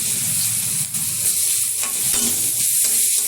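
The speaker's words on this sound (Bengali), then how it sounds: "পেঁয়াজটা একটু নেড়ে চেড়ে হালকা ভেজে নিয়েছি" Chopped onion fries in hot oil with whole garam masala, a bay leaf and turmeric, giving a steady close sizzle broken by the soft scrapes of stirring, with no voices.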